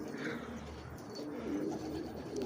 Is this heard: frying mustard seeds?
no